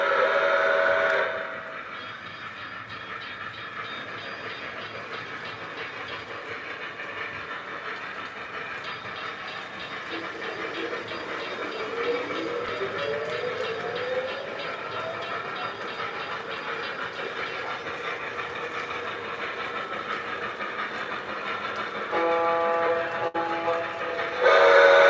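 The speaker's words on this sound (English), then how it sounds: "Gonna run some trains for a little bit while people join." Rumbling rail noise of a model train running steadily, with a rising whistle-like sweep midway and mechanical clatter throughout, no talking.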